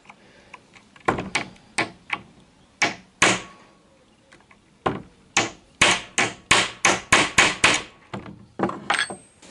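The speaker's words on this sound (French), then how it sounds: "après ces quelques coups de marteau" A hammer strikes repeatedly near the rear window of a Citroën Traction 11B, making sharp, close, metallic knocks, first scattered and then in a quick steady run of about a dozen blows.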